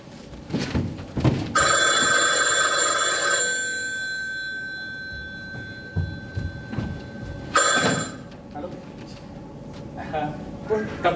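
A telephone bell rings in a Marathi stage play, loud and close, sounding twice with a gap between, while actors' voices talk around and between the rings.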